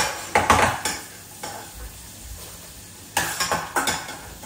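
Peanuts frying in hot oil in a pan for a tadka, a steady low sizzle broken by several loud bursts of stirring and scraping against the pan, close by with no talk.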